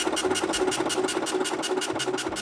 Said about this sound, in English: I'm gonna try to print the text Pewtersmith 150 times to the printer.